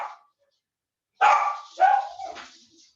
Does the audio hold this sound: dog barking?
yes